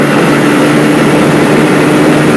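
A motorcycle engine drones loud and steady as the bike accelerates toward 60, mixed with heavy rushing wind noise and no talk.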